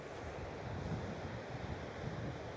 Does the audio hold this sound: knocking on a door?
no